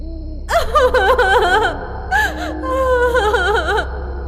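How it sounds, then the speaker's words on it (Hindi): A girl's wailing, sobbing cries at night as a horror story sound effect, rising and falling in long, quavering moans over a steady low hum, close and loud with no speech. "अरे, इतनी रात गए लड़की के रोने की आवाज।"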